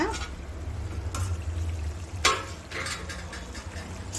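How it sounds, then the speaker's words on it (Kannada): Chicken simmering in its own released water in a pan for a dry chicken dish, giving a soft steady sizzle and bubbling, with a few sharp clinks of a utensil against the pan. "ನೋಡಿ ಚಿಕನು ನೀರನ್ನೆಲ್ಲ ಬಿಟ್ಕೊಂಡು ಚೆನ್ನಾಗಿ ಬೇಯ್ತಾ ಇದೆ"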